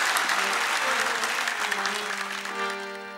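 Audience applause at a live concert fills the whole stretch, dense and steady, with a sustained musical tone running beneath the clapping.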